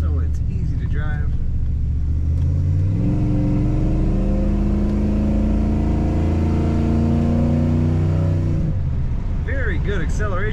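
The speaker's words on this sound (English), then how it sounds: "Very good acceleration from this car. Powerful engine." A 1960 Chevrolet Impala Bubbletop with an automatic column shift, its engine rumbling and rising in pitch as the car accelerates, loud and close, with a voice briefly at the start and end.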